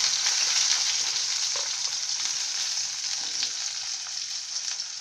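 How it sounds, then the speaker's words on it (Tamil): Finely chopped large onion fries in hot oil with curry leaves, a bright, continuous sizzle with occasional faint stirring clicks, slowly easing slightly in loudness and without any talking. "இந்த வெங்காயம் நல்ல பொன்னிறமாக நம்ம வறுத்துக்குங்க."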